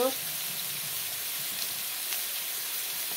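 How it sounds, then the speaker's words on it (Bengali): Potatoes and ridge gourd sizzle together in a pan, a steady broadband frying hiss that stays even and close throughout, with a few brief crackles and no voices. "ঝিঙ্গা আলু এখানে একসাথে ভেজে নেব"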